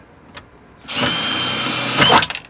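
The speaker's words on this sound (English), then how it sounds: "Just drill out the rivet." After a faint tap, a power drill spins up loudly drilling out a rivet on a 2018 Volkswagen Tiguan, whining steadily for about a second before easing off with a few sputters.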